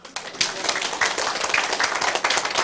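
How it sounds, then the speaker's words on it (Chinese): An audience at a lecture on Taiwan's government and international relations claps together, a dense, fairly loud burst of applause running steadily through the whole moment. "你们把它拍手呀"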